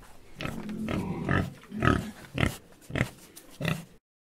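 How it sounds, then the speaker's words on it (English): A pig grunts and oinks in a series of about five close, loud snorting calls spaced roughly half a second apart, then stops into silence. "Pig."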